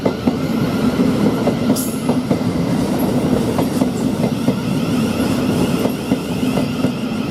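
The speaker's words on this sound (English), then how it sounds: "And we've got a Thameslink coming here, which is 144." A Thameslink train rolls through Three Bridges railway station, with a loud, steady rumble and rapid wheel clicks over the rails and a brief high squeal near the start.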